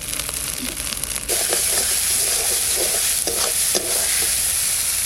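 A spice paste for a fish curry sizzles loudly and steadily in hot oil while a spoon scrapes and stirs it in bursts, close up with no talking.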